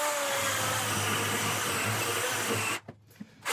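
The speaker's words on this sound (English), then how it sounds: "I'm going to take out the chainsaw, make a cut across it around that area" A chainsaw cuts through a monkey puzzle tree log, with a loud, steady droning roar that holds for several seconds, then cuts out and sputters briefly in short bursts.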